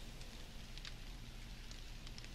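Rain falls in the survival video game 7 Days to Die, a faint steady hiss with a few light drop sounds and no voices.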